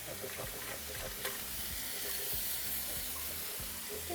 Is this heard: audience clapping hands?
no